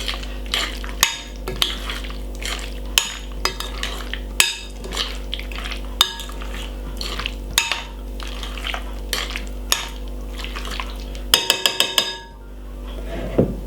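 Potato salad folded and mixed in a bowl, a steady run of clinking spoon taps and soft scraping strokes in an irregular rhythm, close and unaccompanied by talk, ending with a quick flurry of knocks.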